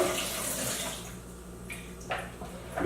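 Running water from a tap rinses a blender jar in a sink, a steady broad wash with slight splashy changes as the jar moves under the stream.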